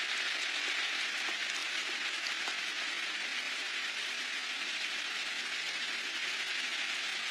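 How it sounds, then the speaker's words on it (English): Rain pours down in a constant, broadband hiss with occasional faint drips, holding an even level throughout with no talking. "I was waiting for the rain to stop"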